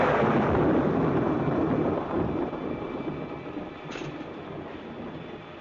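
A thunderstorm in a 1946 film noir, a loud sustained rumble of thunder with heavy rain noise that slowly eases, no talking.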